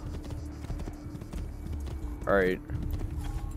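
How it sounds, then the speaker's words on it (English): Horse hooves clip-clop steadily in Assassin's Creed 2, a regular near clatter running throughout, with a short whinny midway and someone speaking briefly over it. "Alright, horse, come here."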